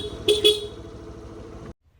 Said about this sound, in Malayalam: അങ്ങനെ രണ്ട് ഹോൺ അടിച്ച് നോക്കി